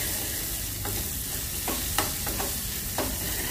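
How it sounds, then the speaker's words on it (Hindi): Sliced onions frying in a pan for sambar, a continuous close sizzle broken by a few scattered spatula scrapes and taps, no voices. "इसको अच्छे से भूनेंगे प्याज को"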